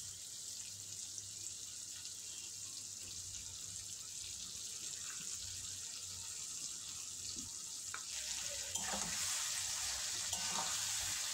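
Sugarcane jaggery melting in a pan for amla pickle gives a soft, steady sizzle with gentle scraping of stirring, faint throughout, with a few clinks near the end.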